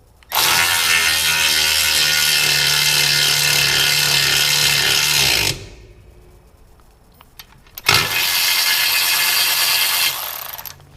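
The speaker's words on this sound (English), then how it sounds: "I've just been tightening the nut up with my little cordless ratchet here" Small cordless ratchet tightening a nut on a threaded stud, two loud close bursts of high motor whine with clicking, a few seconds each, separated by a short quiet pause.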